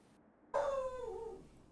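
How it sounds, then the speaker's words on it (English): A single drawn-out cat meow in a video game, rising then sliding downward over about a second, fairly close and clear against a quiet background. "I hear some cat."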